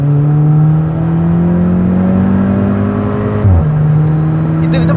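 A modified VW Polo GTI revs hard with wheel spin, a loud, close engine note climbing steadily in pitch, then dropping abruptly before resuming, with a voice talking briefly over it.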